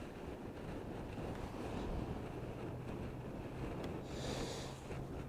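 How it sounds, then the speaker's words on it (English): Strong wind buffets the microphone in the Boise foothills along Bogus Basin Road, a steady loud rumbling roar with gusts throughout and no voices. "Boy, I'll tell you what, the wind is really blowing."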